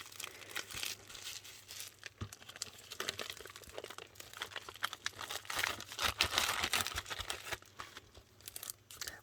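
Crafting supplies are pulled from crinkly plastic packaging, with close, continuous crackling, rustling and occasional tearing that rise and fall irregularly and are heard alone without talk.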